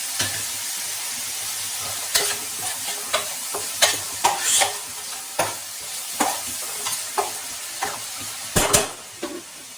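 A spoon stirs and fries cauliflower and onions with turmeric and salt in a hot pan, giving a steady sizzle broken by a series of sharp scrapes and clinks against the pan.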